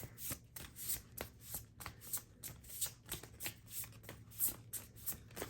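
An oracle card deck, Messages from the Spirits of Nature, being shuffled by hand in quick repeated riffling bursts, close and fairly quiet, with no talk.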